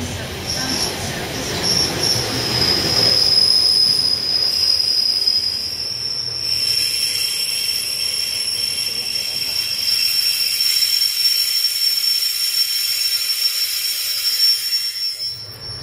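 A passenger train running between Queen Street and Merthyr, heard from on board as a steady rumble with a long high wheel squeal and hiss running through most of the stretch, loud and continuous.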